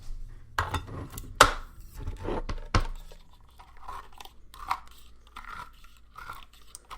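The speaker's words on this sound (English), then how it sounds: "Let's get a can opener out. And we'll do the diced tomatoes." A can opener bites into a can of diced tomatoes in a kitchen, with several sharp crunching clicks and clatters close up at first, then lighter, intermittent grinding taps as the lid is worked around.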